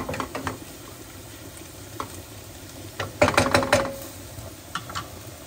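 Linguine carbonara with pepper cooks quietly in a pan. A soft sizzle runs throughout, broken by a burst of clattering stirring and scraping in the middle and a few scattered knocks.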